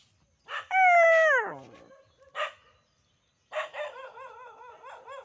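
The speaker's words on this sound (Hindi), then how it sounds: "वो कुत्ते देखो काफ़ी बोल रहे हैं।" Several dogs bark and yelp nearby, one long rising then falling howl-like yelp followed by a short bark and a rapid run of wavering yips, loud and alone without talk.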